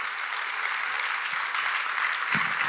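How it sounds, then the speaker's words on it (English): Audience applause for speaker Gal Gibli after a Kubernetes conference talk: a dense, steady wash of clapping from a crowd that holds at even loudness throughout, with no voices over it. "Please, another round of applause for Gal."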